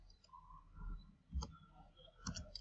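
A few light key clicks on a computer keyboard as numbers are entered during a building elevation drawing, soft and close, scattered over a couple of seconds in a quiet room.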